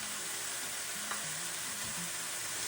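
Seasoning cubes and spices are stirred into a Nigerian mackerel fish sauce frying on low heat in a pan, giving a steady close sizzle with soft scraping stirs and no voices.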